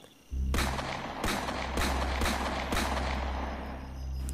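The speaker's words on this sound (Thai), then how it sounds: "แต่มันดังติดกันถี่ยิบถึงห้านัด" A hunter's rifle fires five shots in rapid succession somewhere in the forest, loud sharp cracks spaced about half a second apart over a steady rumbling background, with no voices.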